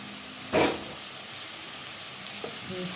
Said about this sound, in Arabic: شوحي لحمه عادي، انا مش هحط فيها ديمجلات صراحه